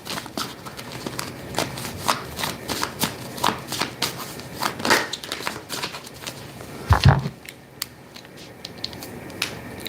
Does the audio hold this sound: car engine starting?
no